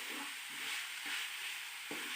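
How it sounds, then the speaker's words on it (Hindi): Chicken and vegetables are stirred with a spoon in a pan over a steady sizzle, with several distinct scraping strokes spaced about half a second apart. "इन सब चीज़ों को आप साथ साथ चमचा हिलाते रहें।"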